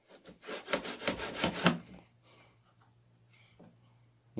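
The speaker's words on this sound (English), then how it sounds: "once you get to that stop dado, you can run it across and cut it" Stanley 71 1/2 router plane taking fine cuts across a stop dado in wood: a run of dry, rasping scrapes over about two seconds, close and fairly loud, then quiet with faint handling sounds.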